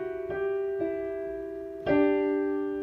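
Piano playing Carol of the Bells with the sustain pedal: a few sustained, ringing notes that blend and decay, with a fuller chord entering near the end, solo and close.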